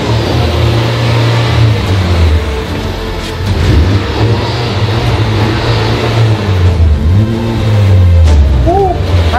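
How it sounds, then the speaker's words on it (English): A car engine revs inside a dealership showroom, a steady loud idle rising into a few throttle blips and sweeping revs toward the end, with occasional voices in the background. "Give it a rev."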